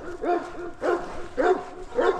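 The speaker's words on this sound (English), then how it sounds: "Livestock guardian dog." A livestock guardian dog at a farm rescue barks steadily, four deep, evenly spaced barks close by with no talk over them.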